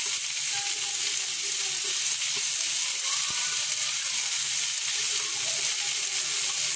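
Ginger, cumin, chili powder and turmeric frying in hot oil, a dense, constant loud sizzle with faint clinks of stirring.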